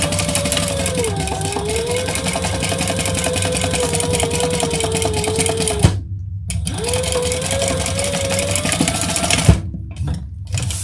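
A sewing machine runs top stitching with a steady mechanical whir and hum. It stops briefly around the middle, starts again and stops near the end, close and alone.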